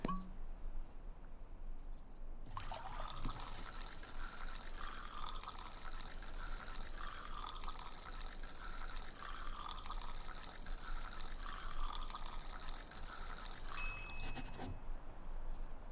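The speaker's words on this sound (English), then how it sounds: "Pour 2 ounces of whiskey." Whiskey, two ounces, pours into a bar glass in a saloon bartending game: a steady liquid gush running for about twelve seconds, clear and close, with no talk over it.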